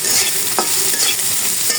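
Turmeric and dry chili powder fry in a pan while being stirred, making a continuous close sizzle with brief scraping strokes and no talking.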